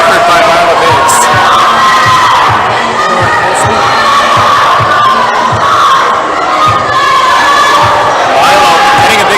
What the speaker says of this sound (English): Milo getting a big reaction from the crowd